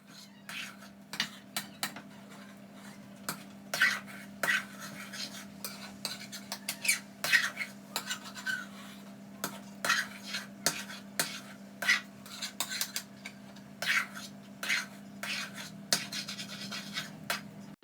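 A spoon scrapes and taps against a pan as halwa is stirred at home, with irregular clinks and scrapes over a low steady hum, close and moderately loud, and faint murmuring at times.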